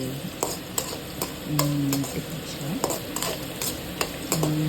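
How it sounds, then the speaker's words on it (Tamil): Crushed garlic frying in oil for a fish curry, a steady close sizzle broken by regular spoon taps and scrapes against the pan, with faint background tones. "அந்த பூண்டு வந்து ஃபுல்லாக எண்ணெயிலே வந்து நல்லா பொரிய வைக்கணும்"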